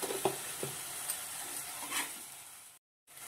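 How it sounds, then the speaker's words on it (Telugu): Spring onions fry with turmeric in a pan, giving a soft steady sizzle broken by a few stirring scrapes before a brief silence. "ఈ విధంగా పసుపు వేసి ఒకసారి ఫ్రై చేసుకున్న తర్వాత"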